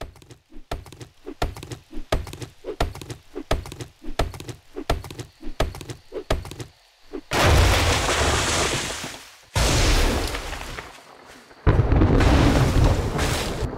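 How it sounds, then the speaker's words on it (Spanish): Fireworks bursting in the survival game 7 Days to Die: a run of sharp, rhythmic thumps and pops, then three long, loud roaring explosion bursts with brief gaps between them, close and dominant with no talk. "Pero más que una tormenta aparecen fuegos artificiales."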